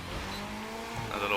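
Tires squealing as a car brakes hard and skids in The Crew 2 racing game, a continuous loud engine and screech lasting the whole moment, with a voice talking over it.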